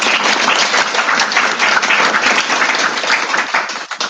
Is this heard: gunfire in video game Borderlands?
no